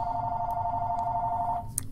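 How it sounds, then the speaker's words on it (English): A landline telephone rings with a steady electronic bell tone that runs alone and loud for most of the moment before cutting off, followed by a faint click. "I'm unplugging the phone once it stops ringing"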